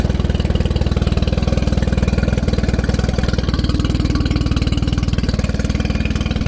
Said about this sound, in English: it should start up straight away